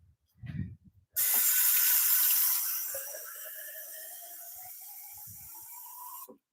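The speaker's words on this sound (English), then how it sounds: "I'm going to get a drink of water first real quick." Water gushes from a kitchen tap to fill a drinking glass, starting abruptly loud and then settling into a steady run whose pitch rises as the glass fills before it shuts off, with a few faint knocks around it.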